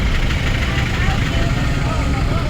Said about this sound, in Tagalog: Road test na namin pala yung Toyota Revo.